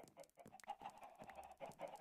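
Chickens in the video game Minecraft cluck in a quiet, overlapping stream of short repeated clucks, with no talking.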